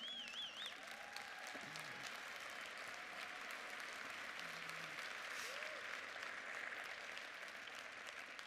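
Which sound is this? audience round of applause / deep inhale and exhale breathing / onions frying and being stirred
audience round of applause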